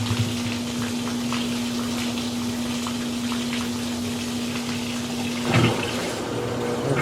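Steady rushing water with a constant mechanical hum beneath it as a GE washing machine pumps out its water, with a brief louder gurgle near the end.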